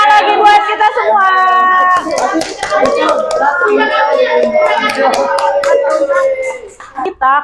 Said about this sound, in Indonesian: Tepuk tangan lagi buat kita semua